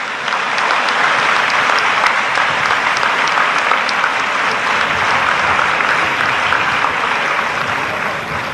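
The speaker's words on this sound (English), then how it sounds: "you are overwhelmingly giving a big clap" Big, sustained applause from a large audience at a university convocation ceremony in India, dense steady clapping filling the hall at an even loud level throughout.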